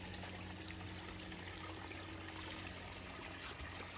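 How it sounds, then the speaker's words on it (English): Two small streams trickle and flow toward a little pond, a faint, steady outdoor babble of running water that carries on without pause, heard from nearby. "And then the two little streams meet here"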